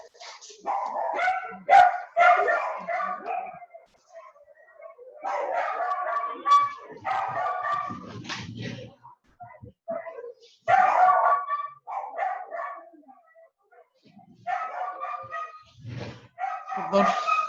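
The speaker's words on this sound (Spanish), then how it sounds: "algo pasa en la calle y mis perros para variar están por loco" Dogs barking from the street, a string of sharp barks and yips in bursts with short pauses between them, fairly close and loud, with a voice talking in places.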